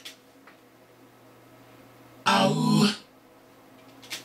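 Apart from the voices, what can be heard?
vocal harmonies with EQ and reverb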